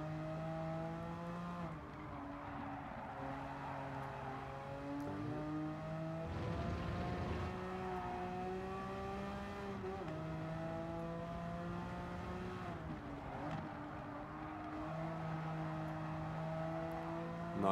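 A racing car in Gran Turismo 7 drifts through corners, its engine whining at steady high revs with gear-linked pitch shifts and a rough burst of tire noise midway, continuous and close throughout.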